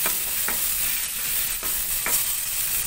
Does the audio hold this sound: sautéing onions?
yes